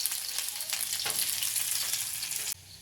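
Onions hit hot oil in a pan and crackle with a bright, continuous sizzle, close and loud, ending suddenly after a couple of seconds.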